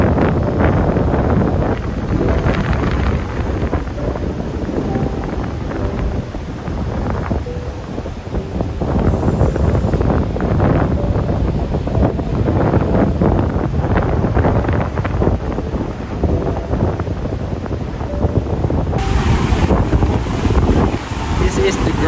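Strong wind and rain from Super Typhoon Betty on Boracay, a constant heavy buffeting roar and hiss on the microphone that stays loud and dense throughout the long stretch.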